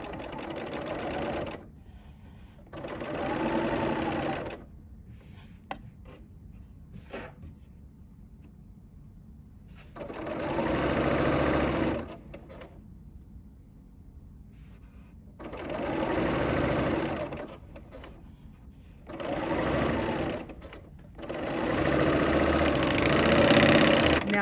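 Sewing machine stitching slippery, flowing fabric, loud steady mechanical whirring runs in several bursts of a few seconds each, separated by quiet pauses, close up and alone without talk.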